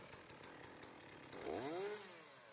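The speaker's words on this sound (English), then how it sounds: "pull up sharply on the cord until the saw starts" Chainsaw pull-started by sharply yanking the cord, several quick rattling pulls followed by the engine catching and revving up into a rising, buzzing whine, all fairly faint.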